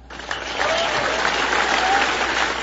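Sustained audience applause at the CPAC 2014 conservative political conference, a dense steady clapping from a large crowd that swells in quickly and holds loud throughout, with no speech over it.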